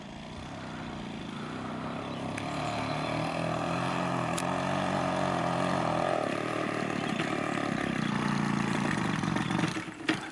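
Electric drift trike running at speed with a broken motor, a steady rising whine and metallic rattle that builds and holds, then tapers off with a few knocks at the end.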